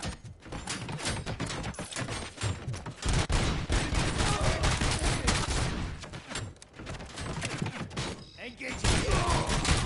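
Rapid bursts of gunfire in the RoboCop video game, dense volleys and shots crackling loudly across the stretch with brief gaps, mixed with a voice speaking over the action.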